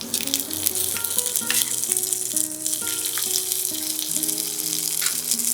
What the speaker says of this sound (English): You should hear a nice sizzle.